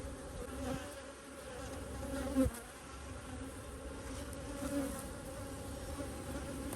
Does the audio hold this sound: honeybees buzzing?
yes